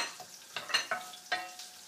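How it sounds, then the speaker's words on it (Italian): Garlic and sun-dried tomatoes in their oil sizzle briefly in a pan, with a few quick stirring clinks and bursts of frying close by, alone. "Date appena una sfrigolata"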